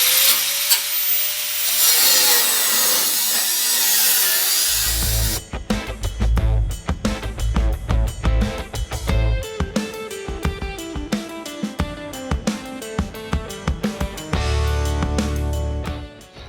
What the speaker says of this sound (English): Now I want to take my cutoff wheel in here and cut this off over to the frame so it's out of my way.